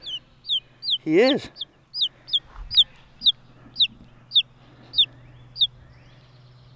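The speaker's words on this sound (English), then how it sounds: "This one sounded like he wanted to chirp." A chicken clucks and chirps in a repeated run of short high calls, with one louder squawk near the start, close and clear over a low steady hum; a voice speaks briefly.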